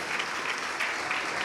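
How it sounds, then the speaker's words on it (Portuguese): A church congregation applauds, a dense, steady wash of many hands clapping that fills the whole moment, with no speech. "Vamos aplaudir mais ao Senhor Jesus."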